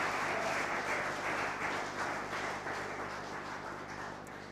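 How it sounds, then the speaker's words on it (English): Audience at a political town hall meeting in St. Andrew North West applauding, a sustained round of clapping at moderate level that slowly tapers off. "So bring on with a round of applause"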